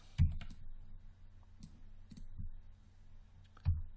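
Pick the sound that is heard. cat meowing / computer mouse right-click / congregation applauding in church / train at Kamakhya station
computer mouse right-click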